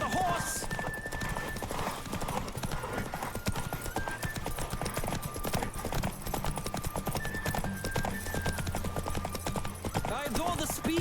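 A horse gallops in The Witcher 3 video game with steady, rapid hoofbeats throughout, mixed with game music and a voice talking over them.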